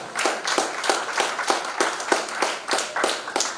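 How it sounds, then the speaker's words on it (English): Audience members at a talk on digital learning and higher education in Nigeria clap a round of applause, with strong, rhythmic, close claps in a steady beat and no speech. "You deserve another round of applause."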